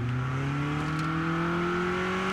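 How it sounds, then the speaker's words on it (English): A car engine in the zombie survival game State of Decay 2 revs steadily, its droning pitch climbing slowly as it accelerates, loud and close with no voices over it. "Just can't beat the sound of a good engine"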